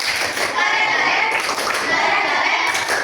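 Fourth-grade classroom children perform a rhythmic group clap together, a busy, bright burst of hand claps and taps mixed with young voices chattering along.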